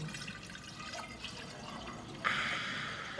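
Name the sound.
tap water being poured into a vase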